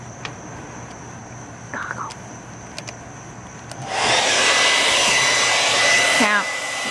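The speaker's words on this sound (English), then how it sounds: "Now I will take the blow dryer and make it pretend to be the wind to see and blow on the sand for 25 seconds" A blow dryer aimed at sand to simulate wind switches on partway through and gives a loud, steady, close rushing roar after a few quiet taps and brief speech.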